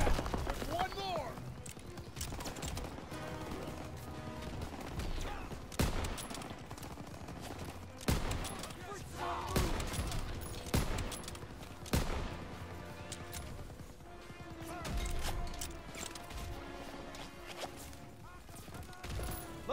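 Gunfire rings out in a video game battle, with sharp shots and bursts recurring at irregular intervals over about twenty seconds. Voices talk throughout, and the fighting stays moderately loud.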